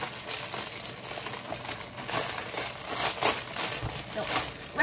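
A package from a Temu haul is torn and unwrapped, with crinkling plastic and rustling packaging in quick, irregular bursts, while people talk over it.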